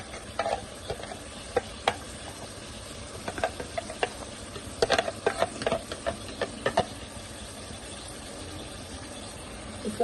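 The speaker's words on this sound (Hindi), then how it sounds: "इसको भी डाल के भूनेंगे।" Chopped tomatoes, two or three medium ones, go into sizzling keema for aloo matar keema, then get fried and stirred. A steady frying hiss runs under irregular scraping strokes, heaviest in the middle, with no talk.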